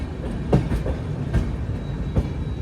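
The Gatiman Express rolls into Jhansi station, with a steady low rumble and rhythmic wheel clatter at regular intervals over the rail joints, close and continuous, with no voices.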